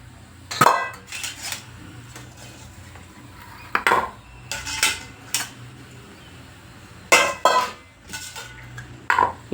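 Freshly steamed idli being transferred into a metal vessel, with scattered clanks and clatters of metal cookware coming in short bursts with pauses, close and moderately loud.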